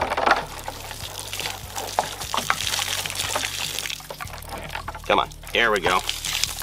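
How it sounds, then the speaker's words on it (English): Water leaks from a bullet-shot jug, a steady close trickle during a rifle test with a 6.5 Carcano. Someone talks over it throughout and grunts with effort near the end. "Okay, yeah, so this jug's pissing."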